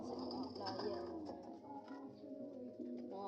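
Pigeons coo softly and repeatedly from a breeding pair with their young, low rounded calls overlapping in a steady murmur with occasional higher chirps.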